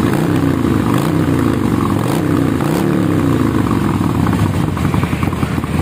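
A Harley-Davidson motorcycle with a custom muffler revs loudly and close, a continuous heavy engine roar with rhythmic throbbing pulses.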